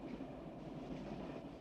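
A passenger train in the film The Cassandra Crossing rolls steadily across a bridge, giving a loud, continuous low rumble with no distinct clacks and no talking.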